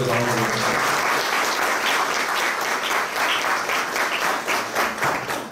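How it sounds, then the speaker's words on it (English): An audience at a service tax refresher course breaks into sustained applause welcoming a speaker, dense clapping from a large crowd that holds steady for several seconds before thinning toward the end. "I request you to welcome the Surendra Gupta with a round of applause."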